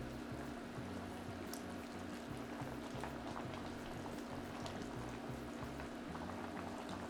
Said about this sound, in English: Now the pot is boiling.